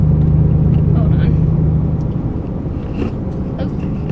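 Steady low rumble of a car driving, heard from inside the cabin, close and continuous with faint knocks and rattles over it.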